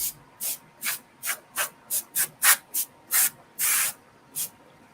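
Compressed air blasts dust out of an overheating iMac in a rapid series of short, sharp hissing bursts, about a dozen in a row, close and loud, with one longer blast near the end.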